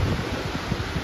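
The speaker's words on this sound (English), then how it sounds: "As you can hear, it's really windy" Steady broadband wind roar buffeting the microphone, a continuous low rumble with gusty fluctuations and no voices.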